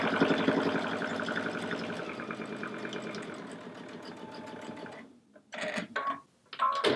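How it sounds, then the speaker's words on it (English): A sewing machine stitches binding onto a quilt, a quiet, rapid mechanical chatter running steadily for several seconds, then stopping, followed by a few brief clicks and handling noises. "And we are done sewing our binding on."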